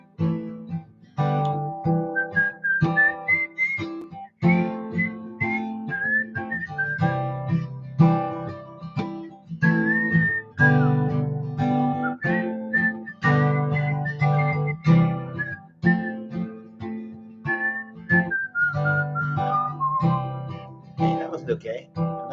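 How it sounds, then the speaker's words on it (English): A melody whistled steadily over a strummed guitar accompaniment, clear and close, continuing throughout. "If I had a lead guitar player, they could play right here, but I'll try to whistle."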